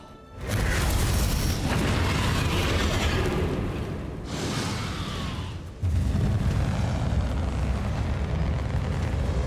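A Bombarda explosion spell in the video game Hogwarts Legacy, loud rumbling blasts and roaring debris that fill the whole span, with a brief dip before a second heavy eruption; no voice is heard.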